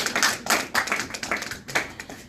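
An audience applauds for a panel at a first-year panel event, steady clapping from many hands that stays loud and continuous with rippling individual claps throughout.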